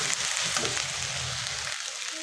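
Garlic and onion paste sizzles and fries steadily in hot oil in a pan while being sautéed for a raw mango pickle, a close, continuous crackling hiss with no talking.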